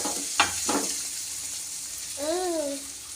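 Chopped tomato, onion and garlic fry in a pan for a conch meat gravy, giving a steady low sizzle throughout with a couple of brief stirring scrapes and a short voice-like tone partway through.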